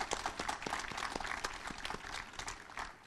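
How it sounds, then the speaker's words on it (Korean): Faint clapping from the audience at Korea University's 115th anniversary ceremony in a hall, a light scatter of separate claps that fades out over a few seconds. "참석자 여러분께서는 다시 한번 큰 박수를 부탁드립니다."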